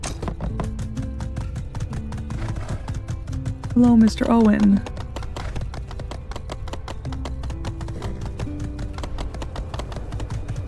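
Horse hooves clip-clop in a steady, even rhythm in the video game My Time at Sandrock, running under tonal game sounds while a voice briefly speaks partway through.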